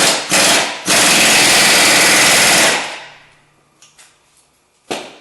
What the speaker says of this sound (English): Then you shoot it on with an air gun